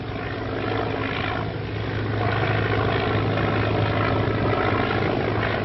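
An amphibian airplane flying overhead, a continuous droning engine and propeller hum that holds steady at moderate loudness for several seconds with no talk.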